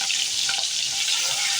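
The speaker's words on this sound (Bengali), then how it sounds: "এখন চিংড়ি মাছের মধ্যে হলুদ মাখিয়ে রেখেছিলাম, এটা দিয়ে দিলাম। মাছগুলোকে একটু ভেজে নিব।" Turmeric-coated shrimp fry in hot oil in a wok, giving a steady, close hiss of sizzling that stays even throughout with no pauses and no voices.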